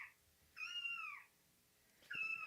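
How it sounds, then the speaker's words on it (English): Two clear cat meows played as a sound effect on a podcast-style show, each a drawn-out tonal cry about half a second long, separated by a pause, close and clean, with no talking. "There's your cats. Yeah. You're going to be hearing a lot of that."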